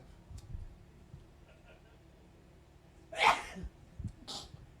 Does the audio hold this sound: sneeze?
yes